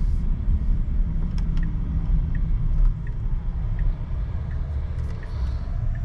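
A Tesla Cybertruck drives along, a steady low road rumble and tire noise inside the cab, with a few faint clicks and ticks above it and no talking.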